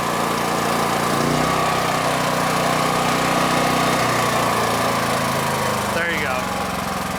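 DuroMax XP13000EH dual fuel generator running at idle, a steady mid-level engine hum with a brief metallic clatter near the end, under someone talking.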